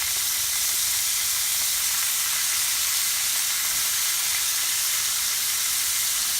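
Top sirloin steak cooks in butter and garlic in a hot pan, giving a loud, continuous hissing sizzle that holds steady from start to finish, with no talking.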